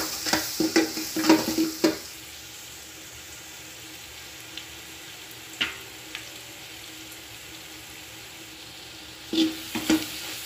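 Spices such as turmeric and chili powder are stirred into a rui fish curry with cauliflower and potato in a pan: bursts of scraping, clinking strokes come in short clusters over a faint steady sizzle, with quiet gaps between.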